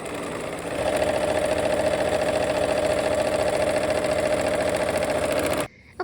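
A sewing machine hums steadily while stitching quilt strips, a close, even mechanical whir with a fast repeating needle rhythm that starts up after a quieter moment and cuts off abruptly near the end.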